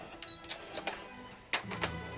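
Home sewing machine malfunctioning while stitching an Imperial officer hat, giving faint irregular clattering clicks and knocks in short uneven bursts.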